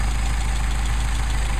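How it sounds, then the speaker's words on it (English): A Mercedes 190SL engine with Solex carburetors idles steadily at about 900 RPM, a continuous low rumble held evenly throughout with no talk. "Now, we got a nice idle, about 900 RPM."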